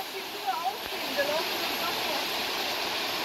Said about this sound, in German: Es ist nur Wasserfall, oder?